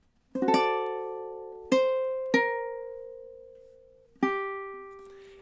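Ukulele plucking a short phrase from a song: four picked notes, a cluster at the start and then single notes that ring out and decay, close and clear with no talking.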